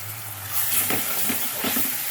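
Ginger garlic paste frying in a pan at home, giving a steady, close sizzle and hiss with a few soft stirring scrapes, no talking.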